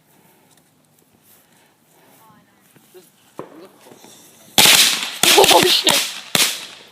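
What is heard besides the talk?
box of firecrackers going off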